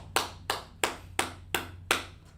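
Six slow, evenly spaced claps from a class, crisp and fairly close, each a single sharp clap with a short decay, over a low steady hum and no speech.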